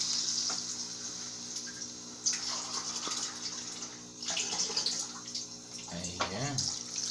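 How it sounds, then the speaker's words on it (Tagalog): Water pours from a tap into a cooking pot for a Filipino nilagang pork liempo stew, a steady splashing gush that shifts in pitch as the pot fills. "lagyan na natin ng tubig"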